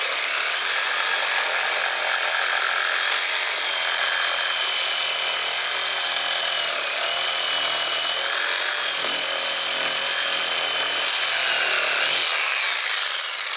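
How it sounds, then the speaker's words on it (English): A Woodmizer LT15 bandsaw mill cuts through a log, a steady, loud, continuous sawing whine that holds for the whole stretch, dipping slightly near the end, with no talking. "And we're going to cut that X out of there."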